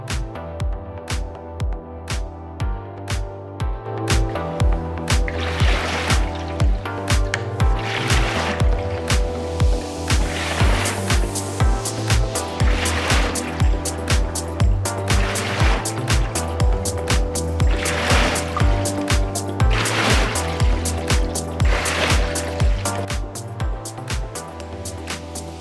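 Water sloshes rhythmically inside a WaterRower rowing machine during an indoor workout, with regular whooshing surges about every two seconds over a steady low hum, close and continuous for the whole stretch.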